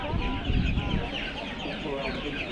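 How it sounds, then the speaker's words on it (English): Chickens clucking and squawking amid the livestock section of an outdoor market, a busy, continuous cluster of fowl calls with faint background voices. "That chicken there is trying to make a run for it."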